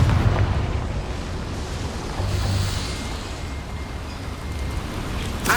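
A Confringo spell explosion in the video game Hogwarts Legacy, played on PS5, lands as a broad roaring blast that swells and rumbles on for several seconds.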